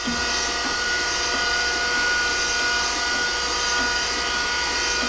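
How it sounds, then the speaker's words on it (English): A grinder works a steel V-block, giving a continuous loud, close grinding roar with a faint rhythmic swell as the work passes back and forth, with no talking. "It seems to be grinding the same amount back and forth, but a little bit more off one side"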